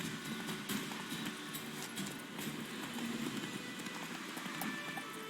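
A horse gallops in Witcher 3, its hooves drumming in a rapid continuous clip-clop rhythm at close range, with a faint game backdrop beneath.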